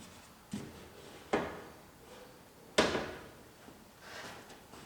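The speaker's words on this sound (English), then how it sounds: "now we can drop our door glass down in here" Door glass lowered into the door of a rebuilt, rolled-over Chevrolet Silverado truck: three or four separate sharp knocks and scrapes of glass against the door shell, close and moderately loud, with quiet gaps between.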